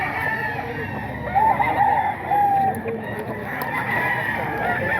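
A two-year-old gamefowl bull stag crows nearby in a rural yard, one drawn-out call rising over a constant backdrop of other chickens clucking and faint distant crowing.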